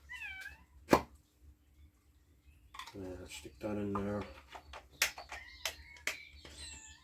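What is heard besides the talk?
domestic cat meowing to get into the house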